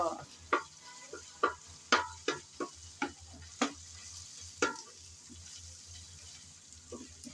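Ginger-garlic paste and onions stir-fried in a pan over a low sizzle, with a rhythmic series of sharp spatula scrapes and taps against the pan.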